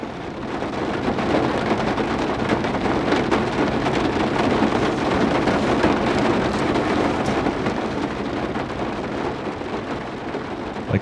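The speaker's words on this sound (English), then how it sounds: "the striking flash of lightning and ominous rumble of thunder drove us back to shelter at camp, waiting out the pounding rain" A mountain thunderstorm in wild Colorado country, heavy rain pounding steadily and loudly throughout, with low rumbling thunder rolling beneath it and no voices.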